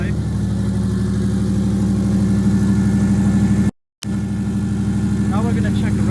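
Straight-piped Subaru engine idling close by, a steady loud low rumble with a brief dropout midway, and faint voices near the end.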